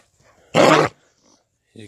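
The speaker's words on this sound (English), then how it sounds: "He's a good loving dog." A dog with a hacking cough lets out one loud, harsh, raspy burst up close, with faint background sounds around it and a voice starting at the end.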